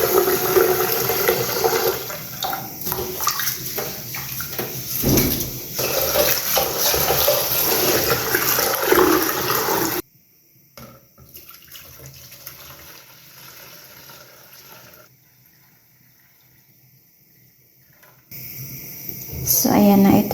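Rice is rinsed and swirled in water in a sink for sinigang broth, with faucet water running and splashing loudly, then a quieter stretch of trickling water before the splashing returns.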